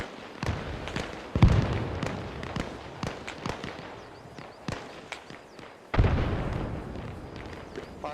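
Gunshots crack out during army platoon live-fire training with the 101st Air Assault, heard as scattered sharp reports at varying distances, including two loud close blasts.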